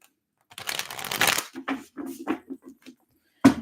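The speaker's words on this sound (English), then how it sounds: "Let's shuffle this one" Tarot cards are riffled in a quick papery burst, then tapped and squared with several soft knocks, close and clear with no talking.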